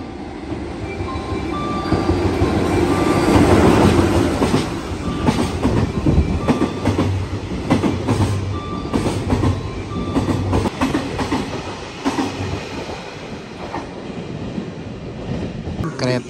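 A Shinkansen bullet train passes at a station in Japan, a loud broadband rumble swelling over the first few seconds and then holding steady with rail clatter and faint squeals before easing off slightly.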